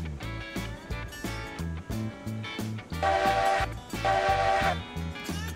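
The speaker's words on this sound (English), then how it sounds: "Yeah, I have mixed feelings about that whistle." A steam locomotive whistle in Railroads Online sounds two chime-like blasts, each under a second, over a rhythmic, chugging engine beat that runs throughout. No one speaks.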